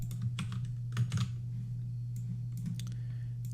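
Soft tapping on a computer keyboard while entering a file path in Python code, irregular clusters of clicks over a steady low electrical hum, with no one speaking.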